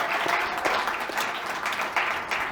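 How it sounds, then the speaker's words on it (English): Audience applause for a cast and crew at an onstage CEO conversation event, a steady wash of many hands clapping close and loud throughout, with no pauses and no talk. "let's give it one more round of applause for the cast and crew"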